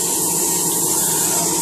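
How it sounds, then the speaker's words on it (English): An airbrush sprays lacquer thinner straight through during cleaning between paint coats, producing a steady, close, loud hiss with no breaks. "Put that in there and spray it through until it comes out clear"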